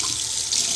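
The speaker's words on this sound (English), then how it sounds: "It injects a lot of air into it right when you put water in the pipes again, so it'll foam like that." Water runs from a faucet into a quartz-countertop sink, foaming from air trapped in the pipes, a loud, steady rushing hiss close by.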